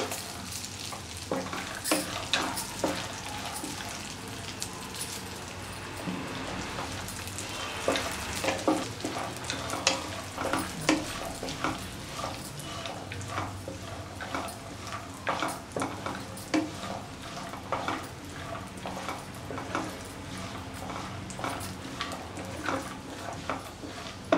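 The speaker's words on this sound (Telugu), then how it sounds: "అంజీరా, ఇవన్నీ వేసి కొద్దిగా దోరగా వేయించుకోవాలి." Almonds, figs and other dry fruits roasting in a pan for laddu, a soft continuous sizzle broken by frequent scraping and stirring sounds from a spoon, close and fairly quiet, with no talk.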